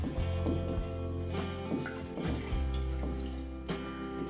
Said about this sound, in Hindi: डाल के अभी इसमें थोड़ा पानी डाल के आप चावल को अच्छे से वॉश कर लेना